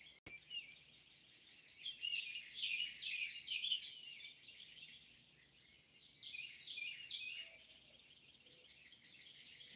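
Early-morning birdsong near a boat comes in two clustered bursts of chirps and trills, set against a constant high insect drone of crickets throughout.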